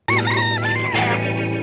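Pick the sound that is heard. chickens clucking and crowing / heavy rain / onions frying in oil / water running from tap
chickens clucking and crowing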